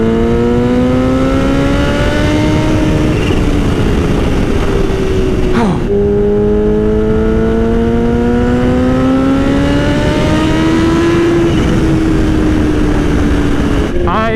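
A Kawasaki H2 motorcycle engine revs hard and accelerates through the gears, rising and falling pitch in two long sweeps with a shift in between, loud and close, with wind noise throughout.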